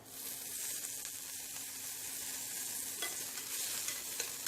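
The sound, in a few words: onions and curry leaves frying in pan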